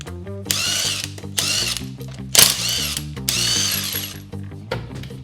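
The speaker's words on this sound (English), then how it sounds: "First things first, we've got the Escort jacked up. Then we could unbolt the wheel." A power tool rattles the front wheel bolts loose on a jacked-up thirty-year-old Ford Escort: loud, close bursts of ratcheting buzz, several in a row with short pauses between them and no voices.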